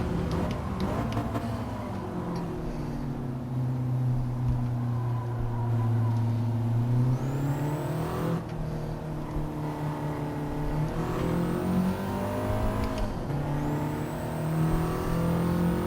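Race car engine in a racing sim, revving steadily with pitch climbing and dropping through several gear shifts, loud and continuous, with faint speech-like sound mixed in.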